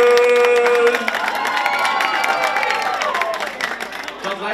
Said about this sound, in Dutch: Voor de rest een harde applaus.